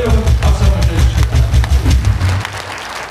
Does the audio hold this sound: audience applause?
yes